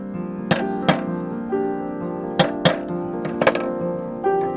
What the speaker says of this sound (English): Using only a hammer and a screwdriver, he then carefully fashions a tiny hole in the rod